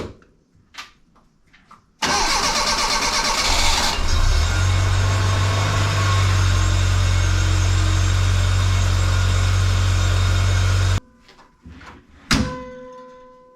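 A 1984 Bertone X1/9 engine cranks briefly, catches and settles into a steady, loud idle for about seven seconds before being shut off, with a few quieter clicks and knocks around it.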